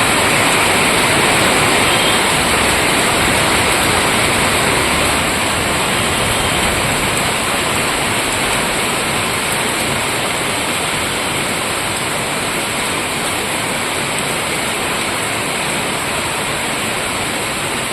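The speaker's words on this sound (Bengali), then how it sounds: "বিভৎস জোরে বৃষ্টি হচ্ছে।" Torrential heavy rain pours down in a dense, steady, loud roar that continues without a break.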